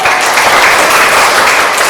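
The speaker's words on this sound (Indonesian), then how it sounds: "Ya, tepuk tangan." Schoolroom class claps hands enthusiastically, a very loud, close, continuous patter of many hands with no pauses and no talk.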